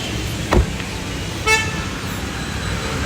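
A car horn toots twice in a rainy street, each a short burst about a second apart, heard over a steady wash of rain and traffic noise.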